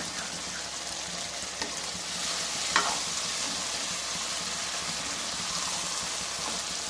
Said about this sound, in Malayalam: പാലിൽ വേവിച്ച പരിപ്പിനെ ഇപ്പൊ നെയ്യിൽ വരട്ടണം